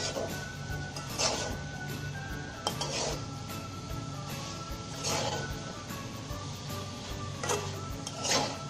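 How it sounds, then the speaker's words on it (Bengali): Potatoes and drumsticks are stirred in a pot for a Bangladeshi lentil curry, giving quiet, recurring scrapes and clinks of a utensil against metal at a steady, unhurried pace. "এখন আলু টাজনা সব কিছু দিয়ে ভালো করে কষিয়ে নিতে হবে।"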